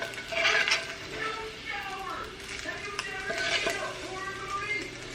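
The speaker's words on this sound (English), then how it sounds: "Oh, our bacon is done. All right, I'm going to remove that from the heat." Fried bacon is lifted from a hot pan, with soft sizzling, scraping and clinking of utensils against the pan under a speaking voice, close and moderately quiet.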